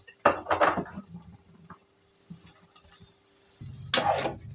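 Onions being stirred in a cooking pan with ginger-garlic paste, sounding as a burst of metallic scraping and clinks near the start, quieter scattered taps, then another loud scraping burst near the end.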